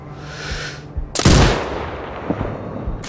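A single sniper rifle shot fires in the video game Sniper Ghost Warrior Contracts 2 during a training mission, a loud sharp crack with a short decaying tail, after a quieter stretch of faint background noise.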